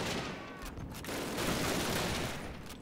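Gunfire from a rifle in Call of Duty 1, heard as a dense, noisy blast of battle sound that swells in the middle and holds steady to the end, with no talking.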